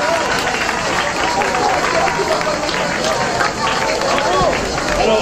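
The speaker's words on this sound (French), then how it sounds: "On peut les applaudir fort aussi" An outdoor crowd applauds the forest fire committee at the Sainte Marie Madeleine festivities in Plan-de-Cuques. The clapping is dense and sustained, with voices and chatter mixed through it.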